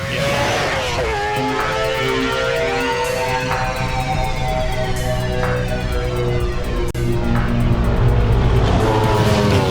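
A race car engine screams close by, revving up and down through repeated gear shifts, loud and harsh, with a brief crackle midway.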